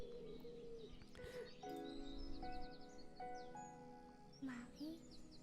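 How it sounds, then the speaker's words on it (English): Faint bird chirps and tweets are woven through a music track, layered with sustained musical tones, quiet and continuous. "We got our birds coming in."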